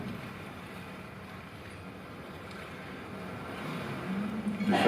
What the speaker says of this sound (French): et les feuilles sèches qui sont prises au vent.